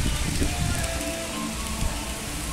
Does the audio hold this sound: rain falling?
yes